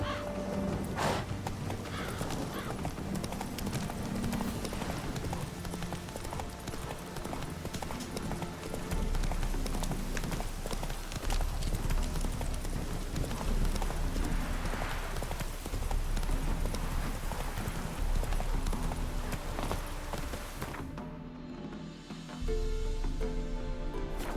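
Roach the horse's hoofbeats in The Witcher 3 video game. A steady clip-clop continues under a dense wash of in-game ambience and music, then drops out abruptly near the end.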